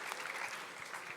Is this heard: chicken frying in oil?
no